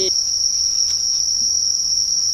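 Cicadas call loudly and continuously, a piercing steady high-pitched buzzing drone that stays alone and unbroken throughout.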